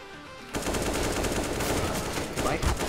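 Rapid automatic gunfire from Counter-Strike: Global Offensive bursts in after a brief quiet start and keeps up as a dense, loud, continuous rattle of shots for the rest of the stretch, with no talk over it.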